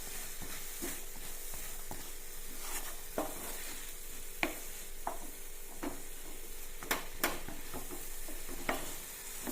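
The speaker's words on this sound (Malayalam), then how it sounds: "ഉപ്പ് കൂടി ഇതിലേക്ക് ചേർത്തൊന്ന് ഇളക്കി കൊടുക്കാം" A utensil scrapes and stirs salt through a raw banana mixture in a pan, with irregular clicks over a steady soft sizzle.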